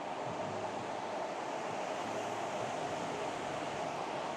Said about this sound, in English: just listening to these waves crash